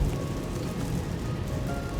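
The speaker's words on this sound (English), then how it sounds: "Now today the weather is bad, as you guys can see, it's raining." Steady rain comes down hard in a dense, unbroken hiss that stays constant and fairly loud throughout, with no talking.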